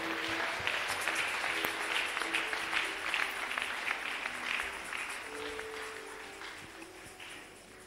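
A church congregation claps together during a Sunday service, brisk continuous applause from many hands that gradually softens toward the end.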